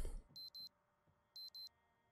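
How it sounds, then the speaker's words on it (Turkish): An alarm clock in the video game Project Zomboid beeps in two quick double bursts, sharp high electronic tones separated by a short pause over a quiet background. "Alarmı kapat."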